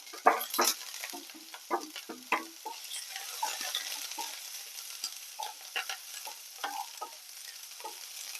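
Onion sautéing in a pan with curry leaves and green chilli while making an aval (poha) upma, with soft sizzling under irregular scraping stirs that come in bursts and then ease off.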